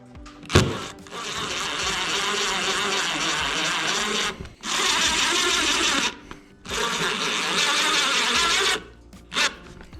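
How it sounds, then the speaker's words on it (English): Three long bursts of a power drill driving screws to mount a thru-deck AC port plug on a boat deck, each whirring run loud and steady for about two seconds with brief pauses between. "Next thing I need to do is put my 3 screws in to secure the port to the deck."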